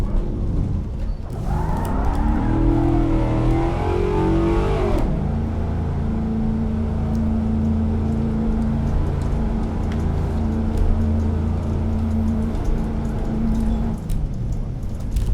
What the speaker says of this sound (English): It is a Ford Crown Victoria. And it's here in Assetto Corsa, the Spec P71 mod.